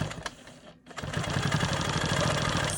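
A Quilt Maker Pro 20 quilting machine runs at a steady, rapid stitching rhythm while it sews a line across a quilt block. It starts, pauses briefly, then hums on continuously and close by.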